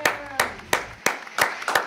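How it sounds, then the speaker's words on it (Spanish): Hand claps from an audience at a live show, heard as about six sharp, separate claps spaced roughly a third of a second apart, with a faint voice underneath. "Fuerte el aplauso, señoras y señores"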